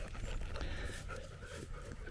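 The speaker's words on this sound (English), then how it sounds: "This is Max, Spanish water dog." A Spanish water dog panting and softly whimpering close by, a steady breathy rhythm with faint whines, outdoors among Mediterranean-climate plants.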